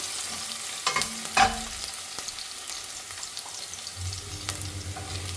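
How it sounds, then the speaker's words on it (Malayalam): Garlic frying in very hot oil, a soft ongoing sizzle with a few clattering utensil knocks early on and light stirring taps, plus a low humming rumble joining near the end. "എണ്ണ നല്ല ചൂടുണ്ട്, അപ്പോൾ ആ വെളുത്തുള്ളിൻ്റെ പച്ചച്ചുവ വേഗം പൊയ്ക്കോളും."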